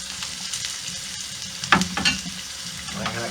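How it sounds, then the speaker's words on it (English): Food sautés in a pan on a Trangia Mini camping stove, a soft steady sizzle with a few sharp stirring scrapes of a spoon, close and alone without speech. "I'm just gonna saute those a bit."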